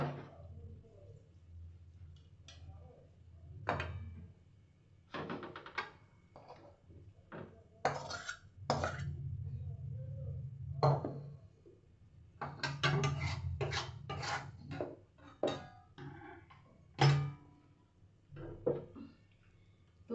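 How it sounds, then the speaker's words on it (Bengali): Cooked pea and poppy-seed curry being scraped and poured from a pan into a bowl: a series of short metallic scrapes and knocks of a spoon against cookware, close by, with quiet gaps between. "এবার আমি এটাকে বাটিতে ঢেলে নেব।"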